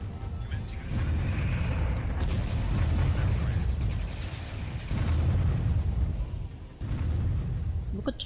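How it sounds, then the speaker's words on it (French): Cannon fire and explosions from the real-time strategy game Warzone 2100, a dense, continuous rumble of booms and blasts with low heavy thuds that swell and briefly drop back, loud throughout. "Les canons, ça a l'air de leur tirer dessus."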